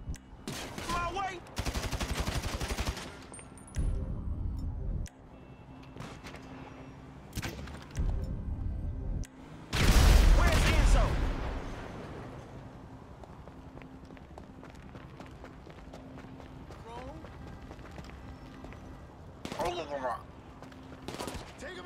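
Gunfire in GTA 5 during a construction-site assassination mission, bursts of shots coming in separated clusters amid shouting voices, with one louder blast partway through and quieter stretches between.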